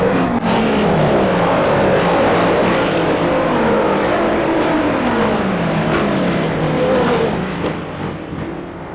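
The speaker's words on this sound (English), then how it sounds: "The car then goes by, zooming past." Race cars at the 24 Hours of Le Mans roar past loudly, engines revving and the pitch falling as they go by, several passes in quick succession under a constant crowd and track din.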